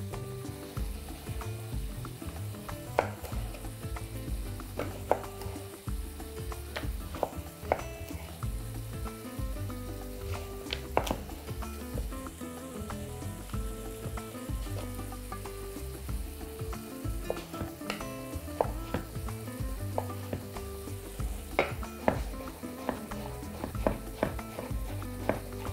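Onion and small zucchini cubes sizzle steadily in a frying pan while being stirred, with scattered clinks and scrapes of the utensil against the pan throughout, continuous and close, with no talking.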